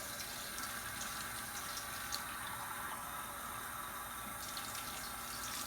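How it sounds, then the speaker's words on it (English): A cup of water poured into a pot of oxtails for smothered oxtails, a faint steady splashing stream of liquid that runs continuously with no talking. "And now I'm going to add about another cup of water."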